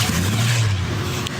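A truck passes very close to a runner on a road with a bike lane, a loud, low engine roar and rushing tire noise that swells and holds, with no talk.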